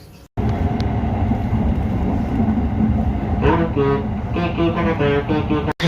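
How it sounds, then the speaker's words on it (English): A train ride in Japan: a loud, steady rumble of wheels and carriage fills the cabin, with high whining tones rising and wavering toward the end. "I just went and did my first train ride in Japan."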